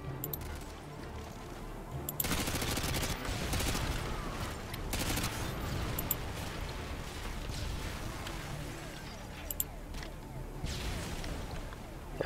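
Sustained video-game gunfire during a squad firefight, with dense overlapping bursts and loud blasts from about two seconds onward, continuing under the noise of the fight.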